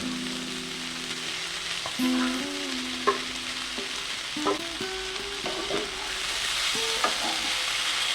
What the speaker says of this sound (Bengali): মাছের মাথা দিয়ে আরও ভেজে নেব মোচাটা